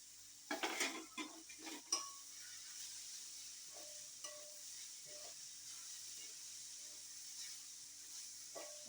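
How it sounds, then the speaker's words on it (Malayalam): A spoon stirs a drumstick-leaf stir-fry with grated coconut in a pan, a few loud scraping clatters at first, then soft intermittent scrapes over a quiet sizzle. "നമുക്കതൊന്ന് ഇളക്കി മറിച്ച് കൊടുക്കാം"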